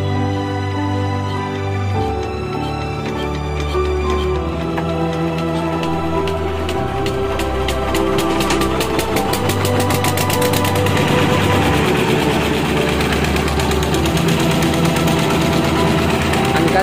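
Kirloskar twin-cylinder diesel engine, just repaired by a mechanic, starting up and then running with a steady thumping, rattling idle close by, the beat quickening partway through, while people talk over it.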